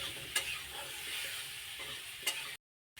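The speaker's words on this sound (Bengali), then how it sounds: "ভালোভাবে বন্ধুরা কষিয়ে নেব।" Pumpkin and potato with salt, turmeric and chili powder are sautéed in a pan: a close, steady sizzle broken by two sharp scraping stirs, then a brief silence before the frying resumes.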